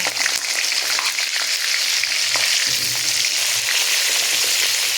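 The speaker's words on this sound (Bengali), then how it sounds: "এবার এখানে আমি সমস্ত আলু দিয়ে প্রথমে আমি আলুগুলোকে সুন্দর করে ভেজে নেব" Potatoes fry in hot oil for a vegetarian khichuri, giving a loud, continuous crackling sizzle close up, with dense bubbling texture and a few faint low knocks underneath.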